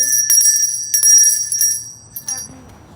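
A small hand bell rings bright and loud in repeated shakes at home, the ringing fading out near the end with brief background voices.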